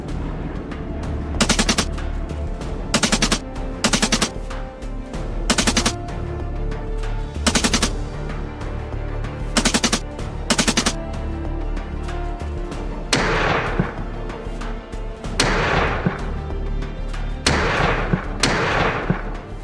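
Repeated bursts of gunfire from an aircraft shooting at wild boars in Australian bushland and swamp, sharp rapid volleys spaced every couple of seconds over a constant low engine drone.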